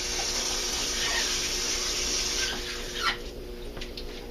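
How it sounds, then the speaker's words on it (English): Vegetables, including a firm bell pepper, washed under a running kitchen tap: a loud, steady hiss of flowing water that eases a little toward the end, with faint splashes as the produce moves under the stream. "like my vegetables nice and clean, so I was washing it."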